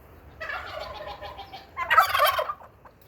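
Turkeys at a garden nursery let out a gobble, a rapid rattling call followed by a louder, harsher second burst, close and clear with no talking.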